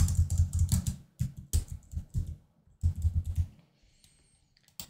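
Typing on a computer keyboard comes in quick bursts of close, crisp key clicks separated by short pauses, with no voice over it.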